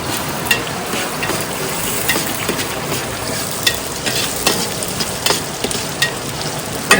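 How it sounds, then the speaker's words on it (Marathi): Onion and curry leaves tempering in hot oil in a pot over an outdoor wood fire by a river, a loud continuous crackling sizzle with irregular stirring clicks, close up, no speech. "कांदा कढीपत्त्याची आपण फोडणी देतोय"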